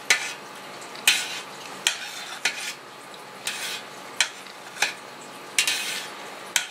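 A knife cutting through cottage cheese curd across a whole pot: soft wet slicing and scrapes recur about every half second to second, with light taps of metal against the pot rim, close and without talk.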